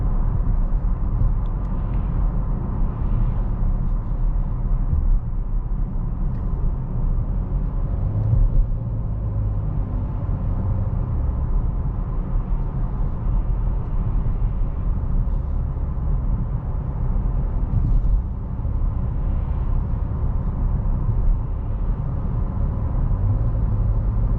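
A 2023 Chevy Blazer RS with a V6 engine gives a steady, low engine and road rumble from inside the cabin as it accelerates on light throttle, smooth and continuous with no talk over it.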